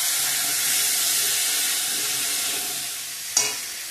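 Mixed vegetables sizzle steadily in a pan for a vegetarian curry, a continuous bright hiss with a brief louder clatter of stirring near the end.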